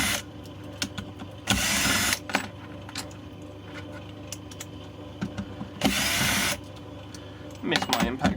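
Power screwdriver backing out small wood-type screws from the lower plate of an electric bicycle battery pack, two loud close whirring bursts of about half a second, with clicks and handling noise between them.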